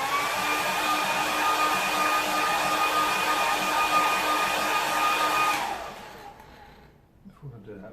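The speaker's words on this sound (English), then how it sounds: "what I'm going to do now is give this a quick dry" A hair dryer blows steadily and loudly over a watercolour painting for more than five seconds, then switches off and winds down to near quiet.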